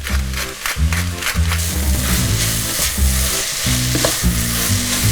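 Potato pieces added to a hot pan with onion for Friulian frico sizzle loudly and steadily, with repeated low scraping stirs in a regular rhythm, close up and with no talk.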